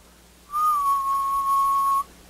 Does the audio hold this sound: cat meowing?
no